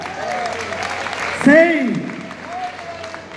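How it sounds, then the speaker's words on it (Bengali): An audience at a crypto platform event in Medinipur applauds under loud amplified speech, with steady clapping throughout. "সবার জন্য একটু করতালি হবে না?"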